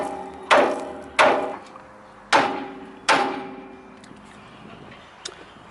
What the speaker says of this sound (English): I hit it with a hammer.